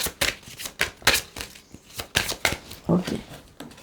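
Tarot cards handled and drawn from a deck, a series of crisp papery snaps and flicks in an uneven rhythm, close and moderately loud with no talking.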